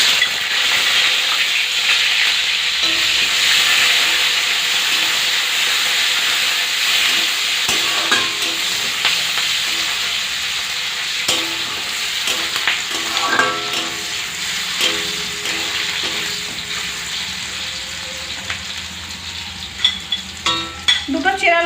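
Chopped onions dropped into hot white oil already frying whole cumin, a loud, steady hiss and sizzle that settles down, with stirring scrapes and clinks growing busier toward the end.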